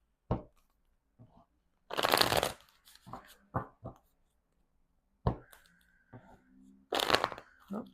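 A deck of oracle cards is shuffled in several quick riffling bursts, crisp and close, separated by quiet gaps, light taps and soft handling sounds.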